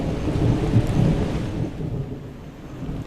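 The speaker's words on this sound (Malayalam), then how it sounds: "ഇടി വെട്ടുന്നുണ്ടോ മുട്ടൽ ഇടി" Thunder rumbles low and heavy through a rainstorm at dusk beside a fishing spot, a loud rolling boom that slowly fades while steady rain hisses underneath.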